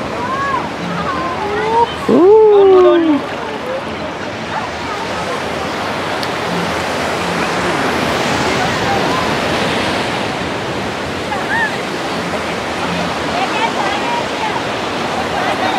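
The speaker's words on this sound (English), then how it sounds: "Let's see them get splashed one more time by these waves." Ocean waves wash over a beach in Mirissa, Sri Lanka, a loud, steady rush of surf that carries throughout, with a voice calling out briefly near the start.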